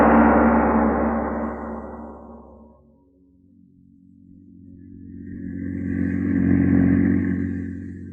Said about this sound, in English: The publisher and his chauffeur are driving along a country road.